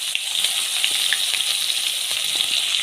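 Curry leaves, green chili, garlic, fennel and mustard seeds frying in hot oil, giving a steady close sizzle with scattered pops and crackles throughout, no talking.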